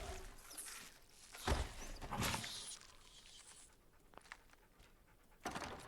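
Churchill the dog in the video game Fallout London panting in quick breathy bursts, soft and close with a few louder puffs, no voices over it.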